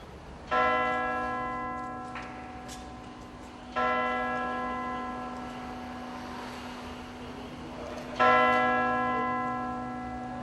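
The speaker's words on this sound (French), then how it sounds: "Le baptême des cloches de la cathédrale de Fort-de-France." Deep bells of Fort-de-France cathedral toll three times during their blessing ceremony, each strike ringing out with a long, shimmering decay that overlaps the next.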